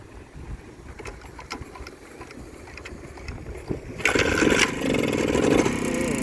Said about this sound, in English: So, could you just start the vehicle? We just want to hear the sound of it.